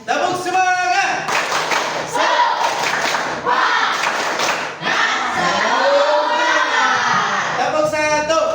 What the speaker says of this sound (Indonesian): Coba keluarkan ekspresi semangatnya, jiwa semangatnya. Tepuk semangat.